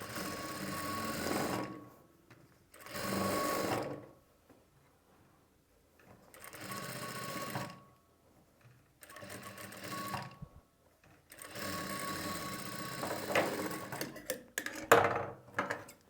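A sewing machine fitted with a piping foot stitches piping onto a blouse in several separate whirring runs of a few seconds each, with short quiet gaps between them and no voices.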